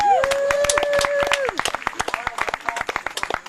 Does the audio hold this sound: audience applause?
yes